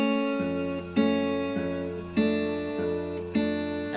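The F section of the 28 Days Later theme played on guitar as repeated plucked chord patterns in a steady rhythm, ringing close and clear with no voices.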